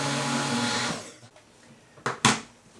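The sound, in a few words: blender blending magnesium lotion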